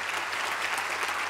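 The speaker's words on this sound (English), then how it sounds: "È un applauso valido" Audience applause at a science prize event, a steady dense clapping that fills the whole moment evenly with no pauses and no voices over it.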